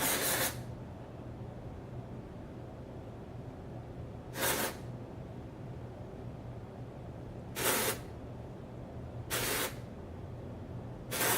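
A hair product is sprayed into the roots of short hair in four short hissing bursts, spaced seconds apart, close, with quiet gaps between.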